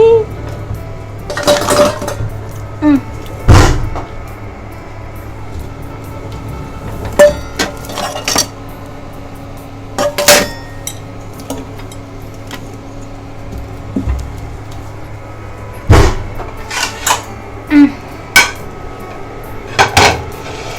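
Dishes and pots clatter and clink in scattered bursts, with sharp metallic knocks over a low steady hum and occasional faint talk in the background.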